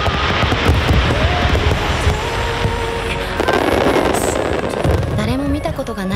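Nagaoka fireworks festival in Japan: fireworks burst and crackle continuously, loud and dense, with whistling rises and booming thuds layered over a roaring crowd-like background.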